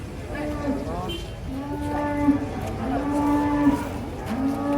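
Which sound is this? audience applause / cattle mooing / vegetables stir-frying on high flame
cattle mooing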